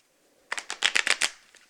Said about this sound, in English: you can cut the cards or shuffle them, just mix them up